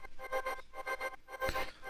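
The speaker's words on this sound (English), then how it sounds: "we've got another vocal pad. I remember this one, it's kind of just like panned the whole way through" Soft, breathy vocal pad from a produced track, moving from left to right across the stereo field, pulsing in a steady rhythm at low volume.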